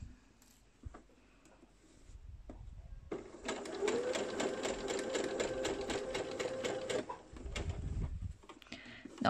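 A sewing machine stitches slowly along a slit while sewing a bag: steady, even rapid ticking of the needle for several seconds, with quieter handling noises before and after.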